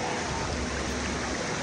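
Water of a local river rushes in a steady, unbroken wash of noise, close and fairly loud, with no other distinct sounds standing out.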